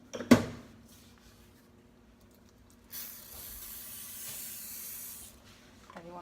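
A short pop of a can, then a steady aerosol cooking spray hisses for a couple of seconds onto a pie dish, close by in a quiet room.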